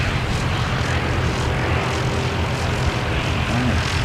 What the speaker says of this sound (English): So that was a touch and go by the Aero Club.